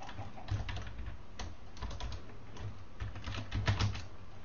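Fast clicking keystrokes on a computer keyboard, a quick irregular patter of taps close by, typed without any talking over it.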